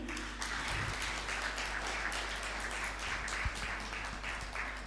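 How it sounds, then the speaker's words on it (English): An audience at a World Antimicrobial Resistance Awareness Week event claps together, a dense, moderately loud patter of hands that holds steady for several seconds. "let's clap for them."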